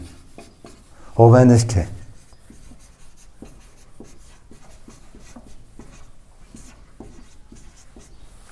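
Pen writing out a handwritten geometry proof on paper, soft repeated scratchy strokes running steadily under a voice, with a brief louder burst of speech near the start.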